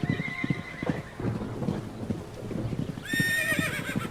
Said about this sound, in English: Did you hear that fucking horse neighing?